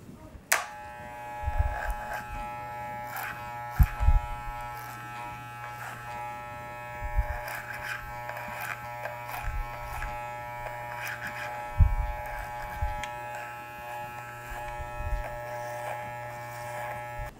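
Electric hair clipper cutting hair, guided along a comb, gives a steady close buzzing hum broken by repeated short bursts and clicks as it passes through the hair.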